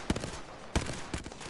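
Sniper rifle fire in an online shooter game, two sharp cracks about two-thirds of a second apart, then a softer follow-up shot, fairly close and clear with no talk over them.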